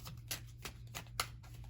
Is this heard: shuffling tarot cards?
yes